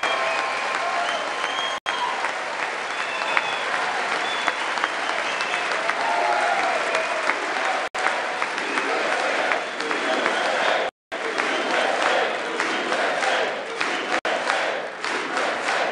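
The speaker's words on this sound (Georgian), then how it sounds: "მას რესპუბლიკელმა კანონმდებლებმა სიტყვატაშით არაერთხელ შეაწყვეტინეს" Sustained, loud applause fills a session of Congress, Republican lawmakers clapping together, broken only by a few short pauses, with shouts mixed into the crowd noise.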